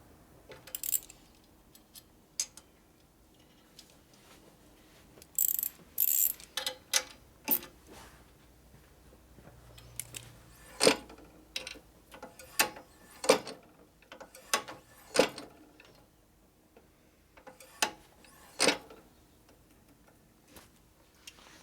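An adjustment screw on a Harley FL shovelhead motorcycle being tightened by hand, giving scattered close clicks and ratcheting ticks in irregular bursts with quiet gaps between them.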